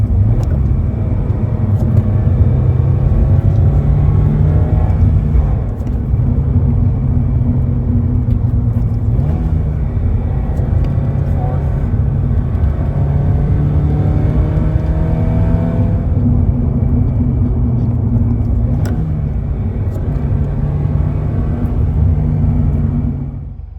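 A Subaru BRZ tS engine drones steadily inside the cabin while heel-toe downshifting from fourth to third, with brief revving blips and rising and falling pitch sweeps over a continuous low rumble, loud and close, with no talking.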